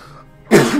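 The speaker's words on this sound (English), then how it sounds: "Alright, I've got to sneeze." A single sharp sneeze bursts out after a quiet moment, short and close, with no words spoken around it.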